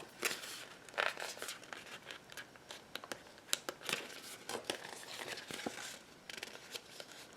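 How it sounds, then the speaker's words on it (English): A floral sticker is picked and peeled from a planner sticker sheet, making soft, close crinkling and scratchy paper clicks in irregular bursts. "If I can get the sticker up."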